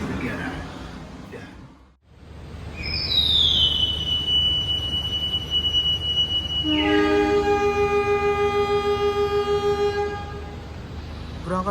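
The Gaya Baru Malam Selatan passenger train departs Surabaya Gubeng station with a loud rumble, a long sustained horn blast, and a high metallic wheel squeal, heard close and steady throughout.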